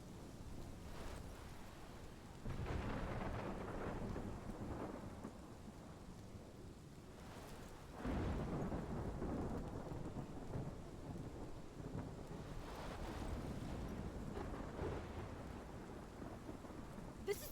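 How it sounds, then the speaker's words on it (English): A thunderstorm with rain: a steady rain hiss runs throughout, broken by several deep rolling thunder rumbles, one near the start and a louder one midway, at a fairly quiet overall level. "This is my storm."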